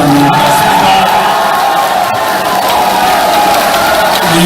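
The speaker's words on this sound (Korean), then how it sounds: "박수 좀 부탁드립니다." A crowd at a Korean political talk show event claps and cheers loudly and continuously, a dense roar of applause with scattered shouts throughout.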